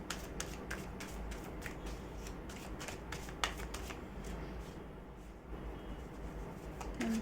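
Tarot deck shuffled by hand in a steady run of soft riffling card flicks, close and continuous for several seconds with no talking.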